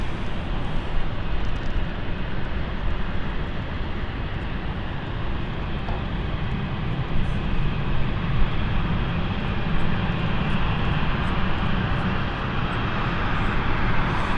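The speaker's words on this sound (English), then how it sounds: "moving over on the taxiway is our Edinburgh flight," An airliner bound for Edinburgh taxis along the taxiway at London City Airport, a steady, moderately distant engine whine and rumble that holds evenly throughout without voices.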